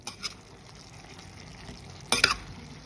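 Boiled potatoes and onion are mashed in a pan of simmering water with salt and turmeric, with quiet bubbling, soft scrapes and a sharper clatter of the utensil near the end.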